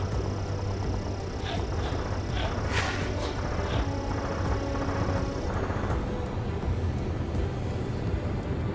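Enemy aircraft in Ace Combat 7, a steady engine roar with faint whooshing passes layered over it, continuous and fairly distant, with no voices.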